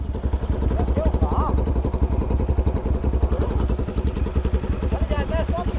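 Engine of a new Honda Bros 160 motorcycle at a river crossing, a steady pulsing mid-range drone running close and loud throughout, with people talking over it.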